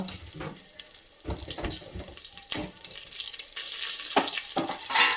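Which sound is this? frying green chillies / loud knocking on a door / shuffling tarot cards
frying green chillies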